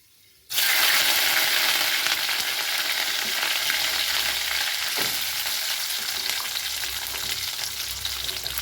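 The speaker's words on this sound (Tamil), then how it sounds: "பூண்டு, சின்ன வெங்காயம் வெந்துட்டுருக்குது." Garlic and shallots frying in hot oil after fenugreek seeds, a loud, dense sizzle that bursts in after a brief quiet start and holds steady, close and without talk.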